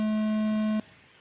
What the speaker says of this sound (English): The next sound you hear will be the start of your electric truck C main.